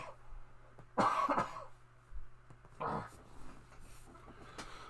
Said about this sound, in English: I gotta cough again.